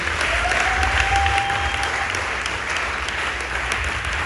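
A church audience breaks into loud, sustained applause, a dense wash of clapping hands that holds steady throughout, with a faint tone briefly rising over it early on.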